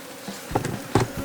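Honeybees at an opened beehive during a hive split, soft buzzing with a couple of short louder bursts as bees fly close.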